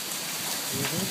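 Hail falls during a storm in North Las Vegas, a dense, steady patter of hits across the whole moment that swells slightly toward the end, with voices faintly present.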